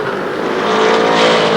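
Race cars at Shadybowl Speedway roar past close by in a dense pack, engines howling at high revs in a loud, continuous blare that swells slightly as they go by, with no voices.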